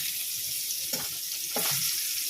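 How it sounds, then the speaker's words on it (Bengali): Green cardamom and cinnamon tempering sizzle steadily in hot oil for goat curry, a constant bright hiss with two brief louder bursts of spattering partway through, close and alone. "দেখো তেলে আমি ফোড়ন দিয়ে দিলাম ছোটো এলাচ আর দারচিনি ফোড়ন দিলাম"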